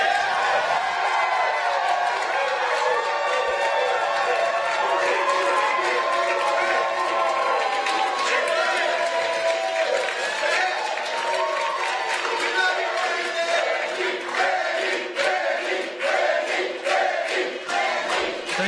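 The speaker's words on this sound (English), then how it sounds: "I was right about that thunderous applause for both you candidates" A crowd at a Wisconsin congressional district debate greets the candidates with sustained applause and cheering, a dense wash of clapping that stays loud throughout, with some voices mixed in.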